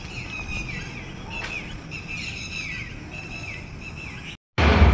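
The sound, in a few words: birds chirping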